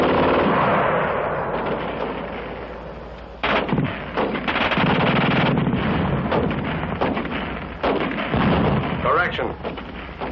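Rapid bursts from a German machine gun firing fast, loud and dense with sharp repeated reports, a brief drop before the firing resumes in heavy overlapping volleys.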